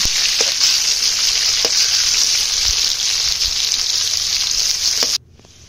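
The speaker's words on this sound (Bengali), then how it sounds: "এবার ভালো করে ভেজে নেব, খুব বেশি ভাজবো না, আবার খুব কমও ভাজবো না, হালকা একটু লাল লাল করে ভেজে নেব।" A loud, steady sizzle from frying in a pan for fish curry fills most of the clip with a few clicks of stirring, then cuts off abruptly near the end.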